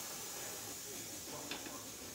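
Steam vents from a pressure canner with the regulator removed, a steady soft hiss that holds throughout, briefly sharper near the middle.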